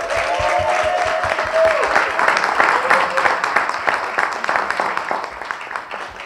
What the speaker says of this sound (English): So let's give a round of applause to our mentors.